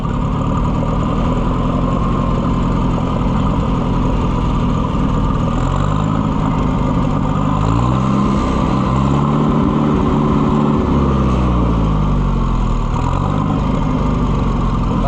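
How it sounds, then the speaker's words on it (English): A loader's engine idles roughly and loudly up close, a steady heavy rumble with uneven, wavering pulses through the middle, running alone with no talk. "It won't idle worth a crap."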